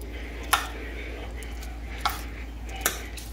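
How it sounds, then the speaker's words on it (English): A utensil scrapes and clinks against a hot baking dish as feta pasta is mixed, three distinct sharp scrapes over a steady low hum. "just gonna very carefully mix this all together"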